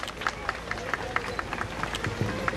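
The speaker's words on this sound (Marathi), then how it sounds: "आपण टाळ्या वाजवून स्वागत करूया." Wedding guests at a Buddhist wedding ceremony applaud together, a steady patter of many hands clapping at moderate volume, with faint crowd murmur underneath.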